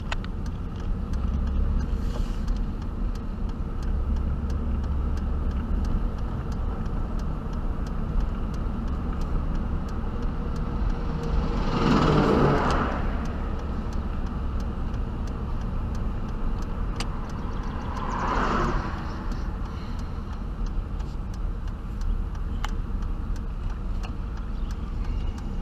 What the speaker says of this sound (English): So yeah, towing my own truck with another Chevy again.